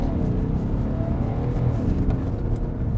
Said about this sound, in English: Let's do a launch control first. The engine is already on. So I press sport, DSC in traction mode, launch control active.